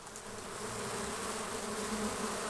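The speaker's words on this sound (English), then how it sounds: "Sounds like bees buzzing." Dense, steady buzzing of many insects trapped inside a fly trap baited with banana, a continuous close drone with no voices.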